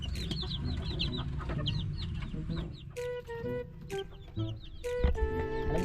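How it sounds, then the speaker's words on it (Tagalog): Chickens, including growing chicks, cluck and peep close by in a backyard coop, with repeated high chirps over lower clucking and a few short calls, without any talking. "Pakita ko na rin sa inyo sisiw ko guys, malaki na eh"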